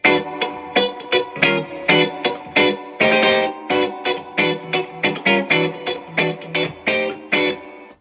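Funk electric guitar plays short, choppy muted chord stabs in a tight, steady rhythm, with a clean tone and a touch of Fender reverb.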